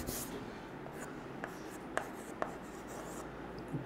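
Chalk or marker writing on a classroom board during a chemistry lesson, steady scratchy strokes with a few sharp taps over a low room hum, close and fairly quiet, with no talking.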